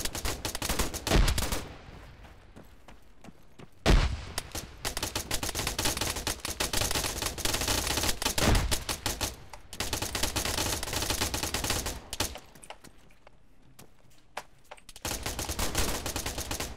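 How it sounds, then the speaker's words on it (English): Rapid bursts of gunfire aimed at a tower in the video game Arma 3, loud sustained volleys alternating with short pauses and quieter distant shots across the battle. "They're all firing at the tower now"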